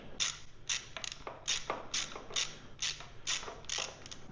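Screws are tightened on plastic Acerbis rally brush handguards fitted to an MT450 motorcycle, giving a close series of about nine evenly spaced ratcheting clicks with no talk.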